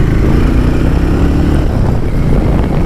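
A Hero Maverick 440 TorqX 2025 motorcycle engine runs with a loud, steady low rumble during a test ride, sustained and close with no talk.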